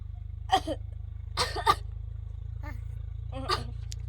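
A crow gives several short, harsh, raspy coughing bursts at irregular intervals over a steady low hum.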